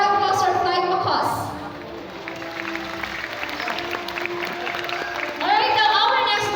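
Audience applause at a bird show in a safari adventure park, after a flight of macaws, moderately loud and mixed with bird squawks and voices, with bird calls rising again near the end.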